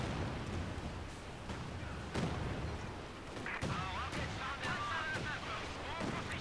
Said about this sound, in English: Big artillery coming in.